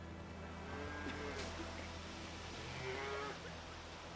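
A cow in The Witcher 3 gives two drawn-out moos a couple of seconds apart, heard against a low steady background hum.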